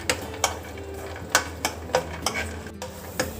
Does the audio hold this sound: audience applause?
no